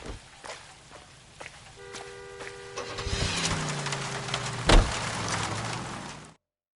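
Period car in the L.A. Noire video game: a door clunk and footsteps, then a starter whine catches and the engine rumbles into a steady close idle, with a sharp thump partway through.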